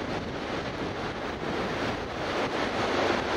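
Surf at Loch Sport surf beach gives a steady, broad wash of breaking waves, constant and moderately loud with no distinct individual breakers and no voices.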